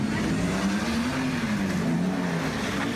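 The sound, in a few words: street racing car spinning tires, burning rubber in parking lot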